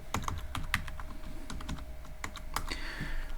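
Keys clatter on a computer keyboard as code is typed, an irregular run of close, crisp clicks and taps with brief pauses and no voices.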